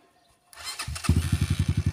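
A UM Sclamber classic motorcycle engine cranks after a brief silence, catches, and settles into a rapid, steady low thump of idling pulses, close and loud.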